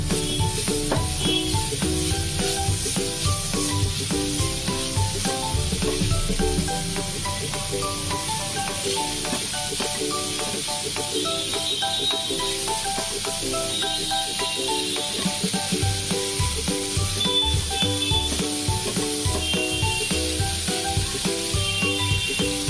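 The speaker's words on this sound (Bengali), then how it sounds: "নিয়ে এটাকে আমি খুব ভালোভাবে ভেজে নেব ঘিটার সঙ্গে।" Grated carrot frying in ghee for a carrot halwa, a steady close sizzle and hiss running throughout, with intermittent scraping and stirring, while soft music plays alongside.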